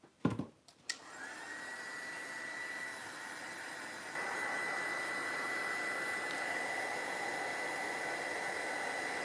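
A heat tool drying paint in a junk journal, starting after a couple of clicks and running as a steady loud whirring blow that steps up slightly in intensity midway, with no talking.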